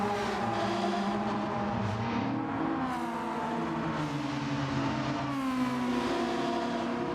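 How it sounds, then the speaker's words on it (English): Race car exhaust resonance heard from an outside view in the Gran Turismo 7 racing video game, a steady droning engine note with gliding pitch shifts as revs rise and fall, continuous and moderately loud. "It sounds a lot better from the outside, where you can hear the resonance of the exhaust."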